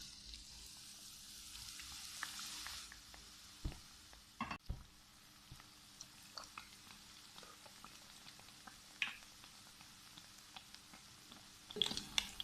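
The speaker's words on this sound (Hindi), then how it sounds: "तो अब इसको फ्राई करते हैं।" Naan pakoras frying in hot oil in a kadai, a soft steady sizzle with scattered pops and a few sharper clinks, heard alone at moderate distance.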